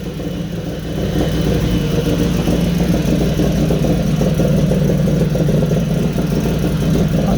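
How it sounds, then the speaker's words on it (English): A built 1000 hp turbocharged Infiniti G35 engine runs steadily and loudly up close, a continuous low rumble and whir with no pauses. "we got the car running"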